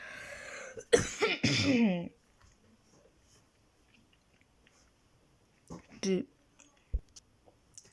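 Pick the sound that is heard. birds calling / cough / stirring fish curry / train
cough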